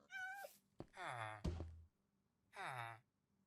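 A cat in a boat in the Minecraft video game meows three times, clear and close, with short gaps between the cries and a soft thump in the middle.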